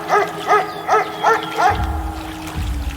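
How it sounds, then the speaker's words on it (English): A dog barks five times in an even rhythm, close and fairly loud, followed by a low rumbling background with no further barks. "Playing dog sounds."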